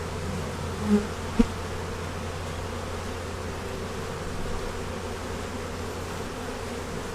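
Honey bees buzz at an open hive, a continuous low drone close by, with a couple of brief knocks near the start and no speech.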